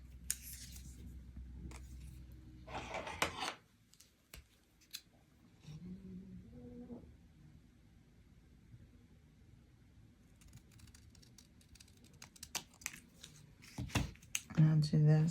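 Scissors cutting a diamond painting piece in half, a brief crisp snipping burst near the start, followed by quieter handling and rustling while a person talks.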